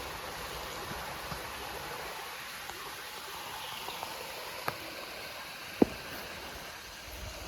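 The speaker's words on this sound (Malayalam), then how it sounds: "പാറകളുടെ ഇടയിൽ കൂടി വെള്ളം ഇങ്ങനെ ഒഴുകി വരുന്നുണ്ട്" Clear water flows between rocks in a stream at Kollengode, making a constant soft rushing wash with a few faint ticks and one sharp click near the end.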